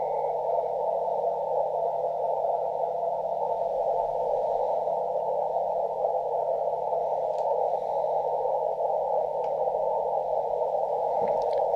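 A weak CW shortwave radio signal at 22,477.5 persists steadily under a constant band of loud hiss and static, faint and buried in the noise throughout.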